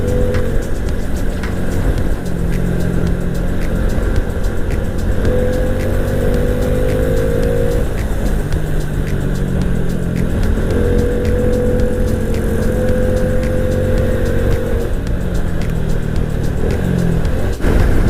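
Honda Wave 125i motorcycle riding on a road in Tak province, its engine droning loudly and steadily with rising and falling pitch as gears shift, heavy wind roar throughout and no voices.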